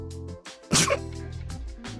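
A game character in Rain Code lets out one sharp sneeze in the middle of the clip, loud and close, set against an ongoing musical background.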